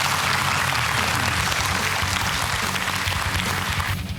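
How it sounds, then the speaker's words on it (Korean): An audience at a KBS television quiz show applauds a contestant who has just been eliminated, steady dense clapping throughout that fades slightly at the end. "끝까지 최선을 다한 우리 유동영 씨께 큰 박수 한번 부탁드리겠습니다"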